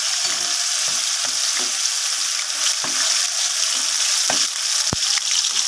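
Prawns and pointed gourd fry in hot oil in a pan, hissing and crackling with a loud steady sizzle, while occasional knocks and scrapes of a spatula or utensil come through the noise.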